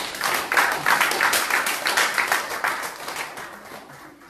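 Standing congregation applauding to acclaim the Lord, a loud dense wave of many hands clapping that swells early and then slowly tapers off.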